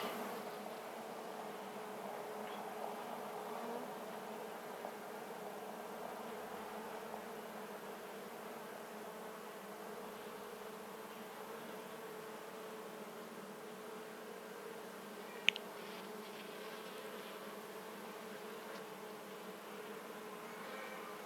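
Honey bees buzz in a steady, even drone at an opened horizontal hive, a continuous soft hum with one sharp click partway through.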